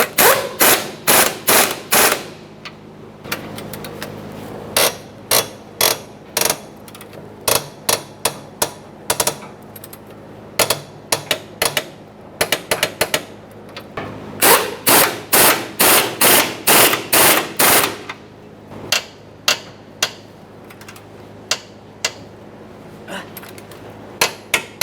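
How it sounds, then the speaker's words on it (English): Sharp rapid metallic impacts in bursts, loud and close, from tools working on the rear lower control arm bolts of a 1992-1996 Toyota Camry, with brief pauses between clusters. "Now we can start torquing our control arm bolts."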